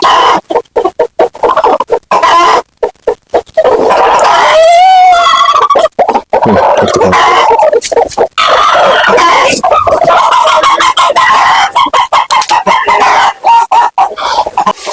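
Loud, close clucking from a flock of chickens continues throughout, with a rooster crowing once partway through, and no talking.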